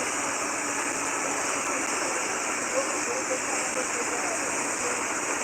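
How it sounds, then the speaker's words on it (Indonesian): A river overflowing onto a road rushes in a steady, dense roar of water, loud and constant without pause. "Makanya sungai itu meluap sampai masuk ke jalanan seperti ini di sana."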